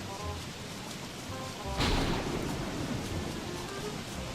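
Rain and thunder in the video game Don't Starve: a soft rain hiss, then a sudden crack of thunder that rolls out and fades beneath the continuing downpour.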